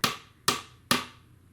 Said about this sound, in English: I'm going to hammer it in a little more here.